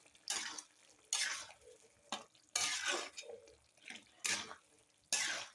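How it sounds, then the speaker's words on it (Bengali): A spoon stirs a spice mixture in a covered cooking pot, giving about seven separate scraping, sloshing strokes in an uneven rhythm, close and fairly quiet with short pauses between them. "এই ঢাকনা দিয়ে দিলাম, নেড়ে দিচ্ছি ভালো করে বন্ধুরা,"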